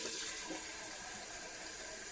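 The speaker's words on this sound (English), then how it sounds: "we're going to get some more water" Water runs steadily from a kitchen tap, a soft, even hiss and splash that continues unbroken throughout, close by and fairly quiet.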